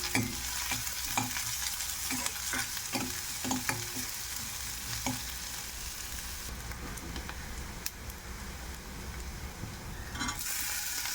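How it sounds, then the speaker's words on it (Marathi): Onions sauté and sizzle in a pan for chana masala. A spoon scrapes and stirs in repeated strokes during the first half, and then a steady close frying hiss continues alone with no talking. "सुरुवातीला कांदा परतून घेते, कांदा हलकासा ब्राऊन झाला की टोमॅटो परतून घ्यायचा"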